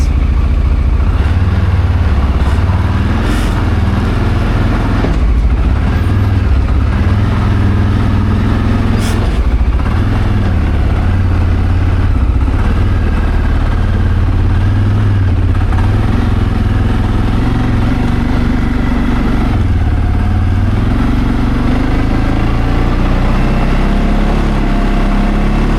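A CFMoto off-road vehicle being ridden at night, its engine droning steadily and loudly throughout with a strong low rumble, no voices over it.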